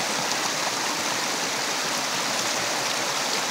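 A flowing stream in the woods rushes steadily, a close, continuous hiss of running water with no voices over it.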